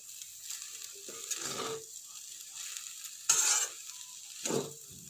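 Egg masala pulao with grated boiled eggs is stirred in a pan, three separate scraping, lightly sizzling strokes of the spoon with quiet gaps between them, close and moderately loud.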